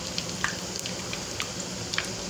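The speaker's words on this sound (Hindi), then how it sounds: "ये सारे नगेट्स फ्राई हो रहे हैं।" Chicken nuggets fry in hot oil with a steady close sizzle, broken by small scattered pops and crackles over the short span.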